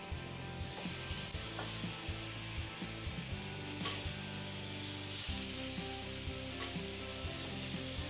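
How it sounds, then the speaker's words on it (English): Pears sizzling on a hot grill, a steady soft hiss with light scraping and clinking from handling, running continuously without talk. "We're going to grill the pears for 2 to 3 minutes on each side, depending on how hot your grill is."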